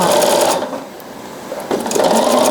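Sewing machine stitching fabric with the presser foot running along the fabric edge; close, loud bursts of fast motor whir with a quiet pause in the middle before stitching resumes, no voices.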